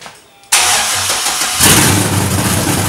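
A Honda K20 engine fires up for the first time after a short crank, then settles into a loud, slightly choppy idle that swells briefly as it catches, heard up close with no talk.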